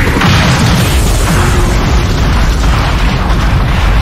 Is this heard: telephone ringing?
no